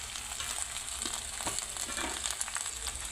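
Onions, chillies, ginger and tomatoes fry for an onion chutney, giving a steady close sizzle with a few soft stirring scrapes and no voices.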